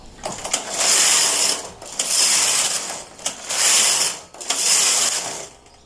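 A punch card knitting machine knits rows of tuck stitch, its carriage sweeping back and forth in four loud, even passes, each a whirring mechanical rasp with clicks at the turnarounds, with no voices.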